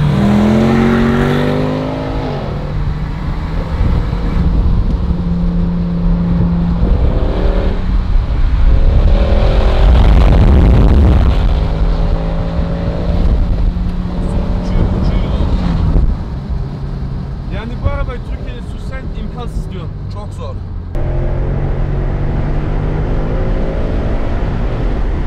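A Mercedes C63 AMG engine revs hard and accelerates through repeated gear changes, loud and close, with rising and falling tones, wind buffeting and occasional voices underneath.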